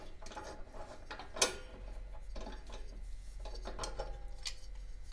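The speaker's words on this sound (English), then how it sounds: "Now we have to take this idler pulley off." Someone removes the idler pulley from a Snapper mower: faint metallic clinks, ratcheting and scraping of parts and tools, with one sharp clank partway through.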